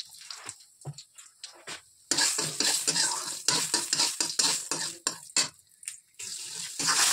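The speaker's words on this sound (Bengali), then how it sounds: "এবার এতে ফোড়নে দেবো কালো জিরে আর শুকনো লঙ্কা।" Black cumin and dried chillies hit a spoonful of hot oil, bursting into bright crackling sizzle after a quieter start with faint handling, the frying swelling and dropping in uneven surges up close.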